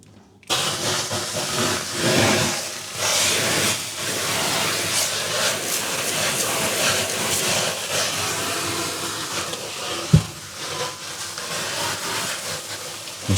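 Steam bursts into a hot oven holding sourdough baguettes on a baking stone, a sustained loud hiss lasting over twelve seconds with a single dull thump near the end.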